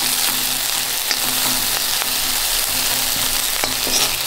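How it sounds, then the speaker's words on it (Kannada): Chopped onions frying in hot oil with mustard seeds as a tempering, a steady close sizzle with faint crackles and occasional stirring clicks, no voices. "ನೀರುಳ್ಳಿ ಎಲ್ಲ ಹಾಕಿ ಒಂದು ಒಗ್ಗರಣೆ."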